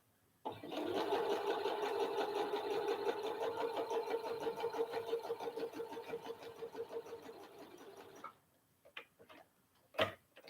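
A sewing machine stitches fabric for a raglan shirt, running slowly and steadily for about eight seconds before stopping. A few sharp clicks and taps follow after it stops.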